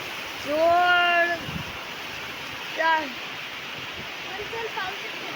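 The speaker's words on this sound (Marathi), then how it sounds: "फोनावर पण पाऊस येतोय" Steady rain hisses evenly throughout, with a voice speaking briefly twice over the constant patter.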